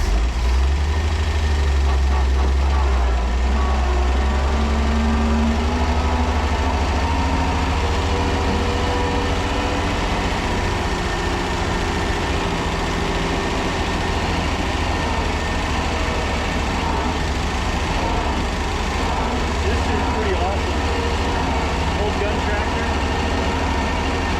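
A CMP military truck engine runs at a rough, low idle, a loud, continuous heavy rumble with uneven knocking and vibration that persists without break, close to the microphone.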